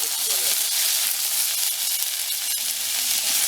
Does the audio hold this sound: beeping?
no